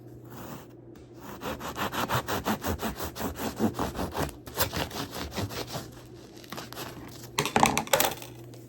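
A knife saws through a cooled loaf of homemade sourdough bread in a rapid, rhythmic run of rasping strokes against the crackly crust, close and fairly loud, pausing briefly before a final flurry of cuts.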